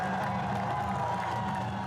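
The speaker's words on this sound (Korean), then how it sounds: "관객들의 박수가 쏟아진다." Audience at the India-Pakistan border ceremony, a steady wash of clapping and cheering from a large crowd, continuous and moderately loud for the whole moment.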